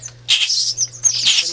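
Baby chipping sparrows give thin, high chirps in two loud bursts, with a short pause between them, over a steady low hum.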